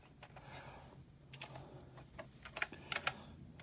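Typing on a Sinclair ZX Spectrum Plus keyboard, a string of faint, close clicks and taps at an uneven rhythm, with a few sharper keypresses toward the end.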